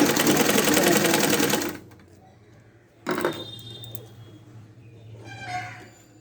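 A sewing machine stitches a bra-cut blouse in one rapid, loud run of needle clatter lasting under two seconds, followed by quiet clicks and fabric handling.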